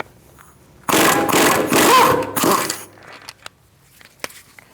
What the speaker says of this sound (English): we're going to use an E24 inverted Chocks bit socket, and we're going to remove this axle bolt